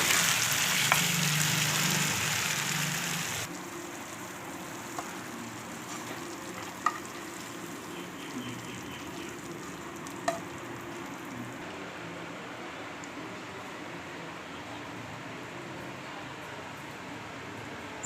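Japan chicken, a creamy chicken gravy, sizzles and is stirred in a pan. Loud frying for the first few seconds drops to a softer, steady bubbling with a few faint clinks of the stirring utensil.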